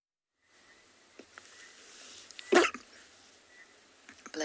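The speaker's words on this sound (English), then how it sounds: "sorry if you heard that sneeze there" A single sharp, loud sneeze bursts out at close range partway through, set against a quiet outdoor safari backdrop with faint scattered sounds around it.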